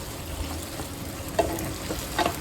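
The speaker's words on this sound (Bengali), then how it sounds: "আমার ঢ্যাঁড়স ভাজা হয়ে গেছে" Okra sizzles steadily in hot oil in a pan, a soft continuous frying hiss broken by a couple of brief stirring clinks, with no talking.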